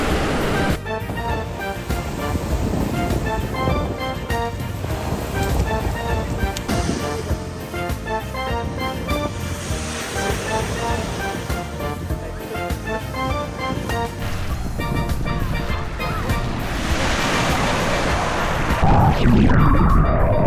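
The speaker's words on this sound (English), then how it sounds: "We made it to the beach and it's super sunny." Ocean surf rolling onto a sunny beach, a steady broad wash of waves with occasional heavier crashes, loud and continuous throughout, with no talk heard.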